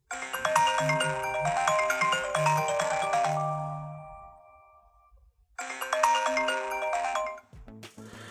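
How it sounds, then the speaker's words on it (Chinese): A ringtone melody plays from the damaged bottom speaker of a dropped iPhone XS Max, repeating in two loud bursts separated by a quiet gap, its tones harsh and crackly, with no voices. "我们听到了底部的扬声器呢是可以发出声音的，但是呢是有爆音的"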